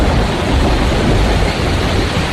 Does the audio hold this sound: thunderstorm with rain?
yes